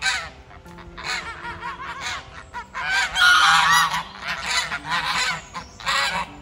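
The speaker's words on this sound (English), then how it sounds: "This is how I get welcomed at the end of a long, exhausting day by this pack of incredibly noisy geese." A flock of noisy farm geese on an old mill farm in Cornwall honk loudly and repeatedly in overlapping bursts, close by, with a low hum underneath.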